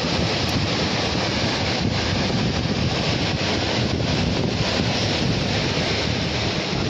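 Strong wind roaring steadily across the microphone by the sea during a rod-fishing outing, with surf washing beneath it as the gusts pick up again ahead of heavy rain; a loud, continuous rush with no speech.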